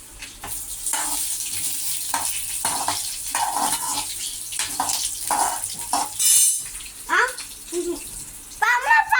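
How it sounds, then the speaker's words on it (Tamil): Carrot chutney ingredients fry in a pan with a steady, bright sizzling hiss that runs throughout, rising in brief surges, with a voice briefly audible near the end. "நல்லா வறுக்கணும்."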